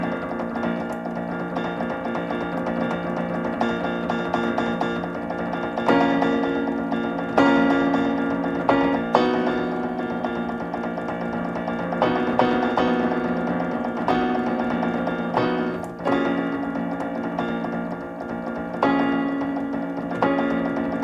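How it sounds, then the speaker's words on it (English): Orchestral excerpt from Help Us on the Way for orchestra: dense, sustained ensemble texture with swelling chords and occasional accented hits, steady and moderately loud over about twenty seconds, no voices. "What you just heard was an excerpt from Help Us on the Way for orchestra."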